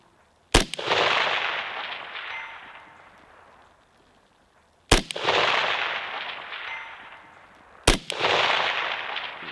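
Three sharp rifle shots fired at a long-range target, each a loud crack followed by a long rolling echo that slowly fades across open ground, spaced several seconds apart with no talking.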